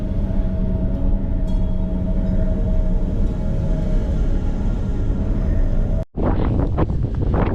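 Strong wind roars and buffets the microphone in a continuous heavy rush, briefly cutting out before gusting again, in northern Norway near the North Cape.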